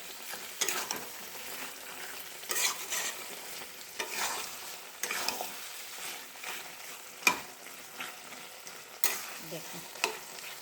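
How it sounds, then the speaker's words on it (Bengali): Turmeric being stirred into ridge gourd frying in a pan for jhinge posto, with repeated scraping stirs of a spatula over a gentle sizzle, close by and without talk. "হলুদটা দিয়ে আবার একটু নাড়াচাড়া করবো"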